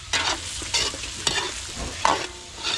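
Garlic and onion fry in a pan for beef kaldereta, a soft sizzle broken by repeated scraping stirs of a utensil against the pan, close and moderately loud.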